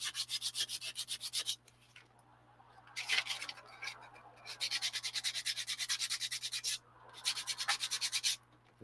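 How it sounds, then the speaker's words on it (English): Hand sanding a puppet part, a rapid back-and-forth rasp in long rhythmic bursts separated by short pauses, close up over a faint steady hum. "and now sanding."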